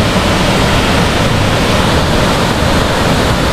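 Pinsal Falls in Sta Maria, Ilocos Sur, pours in a constant, loud roar of rushing water, a dense wash of noise that stays even from start to end with no voices.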